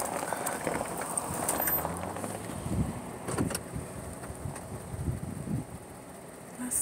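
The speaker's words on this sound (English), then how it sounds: "There's a lot of cars coming." Cars pass along a road near Mt. Charleston outside Las Vegas as a soft, continuous traffic rumble rises and falls, with faint knocks and clatters mixed in.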